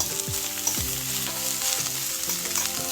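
Onion and Scotch bonnet pepper frying in a pan give a steady, close sizzle, with scattered scraping stirs and clinks of a utensil on the pan, and no one talking.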